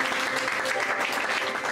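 A church congregation applauding during a worship service, a steady, close burst of many hands clapping that runs the whole short stretch.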